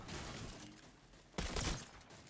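Gunfire in a battle royale video game: a sudden loud burst of several rapid shots rings out in the second half, standing out against a steady murmur of game ambience.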